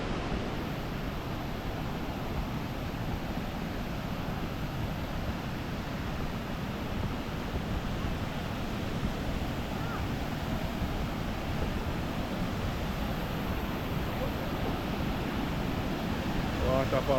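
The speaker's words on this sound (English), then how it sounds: "Waterfalls right there." Ys Falls waterfall in Jamaica, a steady broadband roar of rushing water filling the scene at constant loudness from start to finish, with a little wind buffeting the microphone.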